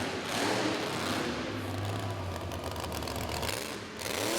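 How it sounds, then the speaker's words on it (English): Monster truck Tailgator at an arena event, its engine revving hard and droning steadily with a struggling, failing transmission, loud and continuous with a deep tone running beneath through the middle. "You hear the motor really revving up. Sounds like the transmission is going away."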